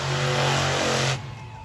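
The Cyclops monster truck's big engine roars loudly as it spins a donut on an arena floor, a sustained throaty rev that abruptly drops off near the end.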